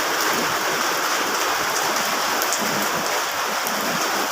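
Heavy rain pours down steadily, a dense, continuous hiss of water drumming on surfaces close by, with no voices.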